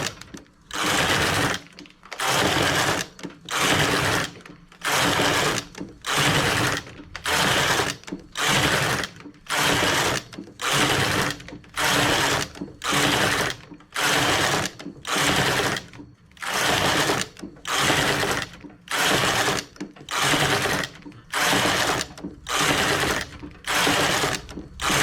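Knitting machine working rows of wide rib stitch: a steady, loud mechanical whirring that repeats in even sweeps about once a second, each pass of the carriage swelling and cutting off, continuing without pause.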